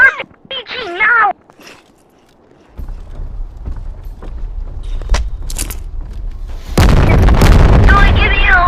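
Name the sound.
RPG rocket launcher firing and exploding in the video game Animal Company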